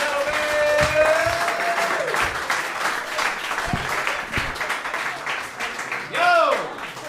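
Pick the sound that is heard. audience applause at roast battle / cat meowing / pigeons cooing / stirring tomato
audience applause at roast battle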